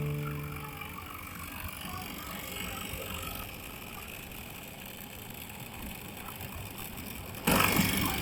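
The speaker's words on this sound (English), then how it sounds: "after switching on the vacuum pump" A vacuum pump runs steadily on a solar thermal adsorption refrigeration system, a continuous mechanical hum and rattle held at an even level, rising into a louder, harsher burst near the end.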